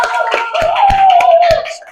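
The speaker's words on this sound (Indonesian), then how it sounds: "Beri tepuk tangan untuk kelompok 5." Pupils in a fourth-grade Islamic religious education classroom clap for group 5, a brief burst of scattered, uneven hand claps with some sharp individual slaps, fading toward the end, with faint voices mixed in.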